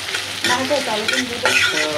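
Onions with bay leaf and garam masala fry in hot oil for a beef liver curry, giving a steady, close sizzle with scraping and stirring bursts throughout.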